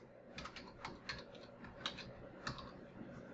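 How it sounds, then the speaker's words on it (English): Computer keyboard typing in short irregular bursts of clicks, close and clear, alone without talk. "we're going to right click and we're going to type in"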